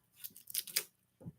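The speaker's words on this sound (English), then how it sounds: "We're going to take 2 onions. Cut those in half." A knife slicing through onions on a board, a quick burst of crisp cutting crunches followed by a brief pause and one more short cut, close and quiet with no voices.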